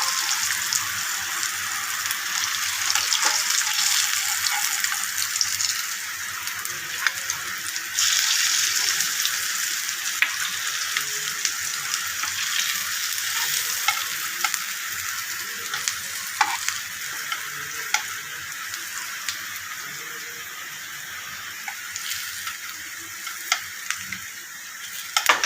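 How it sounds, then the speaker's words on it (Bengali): Peanut cutlets fry in hot oil with a dense, continuous sizzle close by, punctuated by occasional clicks and stirring scrapes throughout. "ভাজা হয়ে গেছে, এবার তুলে নিচ্ছি"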